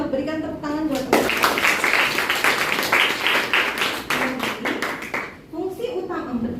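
Classroom students clap for a classmate in a burst of scattered, uneven hand claps lasting several seconds, with a voice talking before and after the clapping.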